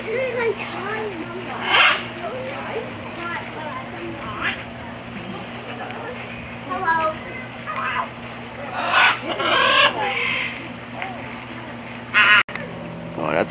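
Macaws at Sarasota Jungle Gardens in Florida give several loud, raspy squawks and calls scattered throughout, some close and harsh, over a steady low hum, with someone talking in between.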